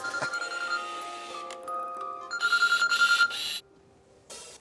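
Telephone bell rings in repeated bursts, loud and close, with a steady electronic tone running beneath and a short quiet gap near the end.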